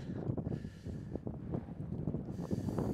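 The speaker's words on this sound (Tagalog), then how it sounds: "ang lakas ng hangin ngayon" Steady, blustery wind roars across the microphone outdoors in the Korean countryside, a continuous low rumble with gusty surges and no voices.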